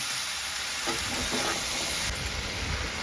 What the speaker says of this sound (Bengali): এবার আমি কাঁঠাল খুব ভালো করে একটু কষে নেব।